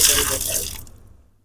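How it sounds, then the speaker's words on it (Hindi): Water is poured over a small rescued cobra to rinse mud off it, a loud splashing gush that fades away after a moment. "ये हम पानी डालते हैं पहले इसके ऊपर, इसकी मिट्टी थोड़ा सा कि छोड़ जाए।"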